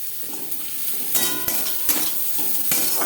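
Chopped onions and carrots frying in oil in a wok, a steady sizzle broken by several sharp scrapes and clanks of a spatula stirring against the pan.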